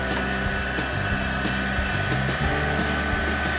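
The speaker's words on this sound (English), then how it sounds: "So heat gun, easy to use, on and off button, simply turn it on, it'll start" A heat gun blows hot air over the surface of candle wax, giving a steady, loud, continuous whooshing hum with a faint motor whine and no speech.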